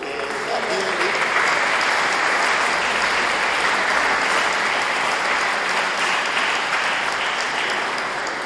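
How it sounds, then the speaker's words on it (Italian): Sustained, dense applause from an audience at a community storytelling event about a village bell tower, steady and fairly loud throughout with no pauses. "io farei sempre un applauso a Pietro."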